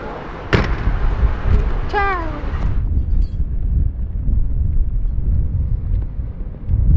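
Strong, dusty desert wind gusts and buffets the microphone at the Dakar Rally, a loud, steady low roar, with a brief squeaky cry and a sharp knock early on.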